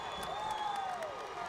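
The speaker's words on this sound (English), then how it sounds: "that got this crowd on their feet" Cheering and applause from the home crowd at a Nixa high school football game, a steady broad roar with a whistle-like tone rising over it, sustained and fairly distant throughout.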